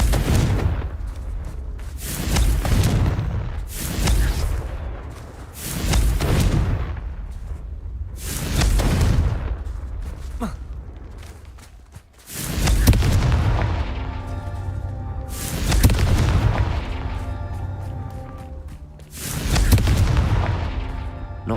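Confringo blast spells going off in the Hogwarts Legacy video game: about nine loud, booming explosions in quick succession, each a heavy burst with a rumbling tail, with no talking.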